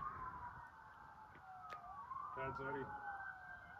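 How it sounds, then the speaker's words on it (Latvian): Emergency sirens wail with slow rising and falling sweeps, fairly distant, while a person speaks briefly over them. "Dzirdam sirēnas."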